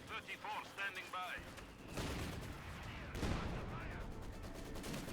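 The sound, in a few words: artillery barrage in Company of Heroes 2 video game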